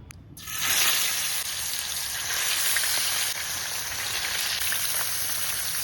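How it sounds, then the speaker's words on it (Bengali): Koi fish frying in a hot wok for a fish curry: after a short silence a loud, dense sizzle erupts and then holds as a steady close crackle, with no talking. "মাছগুলি ভেজে নেব।"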